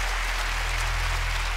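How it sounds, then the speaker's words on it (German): Studio audience at a TV game show claps in a brief, steady burst of applause with a constant low hum beneath it. "bitte einen Applaus für unsere Helping Hands heute Abend"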